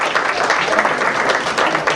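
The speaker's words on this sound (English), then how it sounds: "let's give them a big round of applause" A steady round of audience applause from a children's show crowd, dense even clapping sustained throughout at close range with no talk over it.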